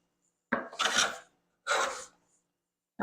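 A hand plane takes big shavings off a board in two close, distinct pushes, each a harsh rasping swish, with a third stroke starting at the end and no talking.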